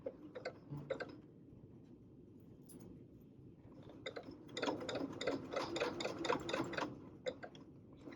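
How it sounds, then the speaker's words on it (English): A sewing machine stitches through fabric in short runs: a few quick stitches, a pause, then a longer steady burst of rapid mechanical ticking, close and fairly quiet with no talking. "do a few stitches in that direction, and I'm going to back them up to lock it"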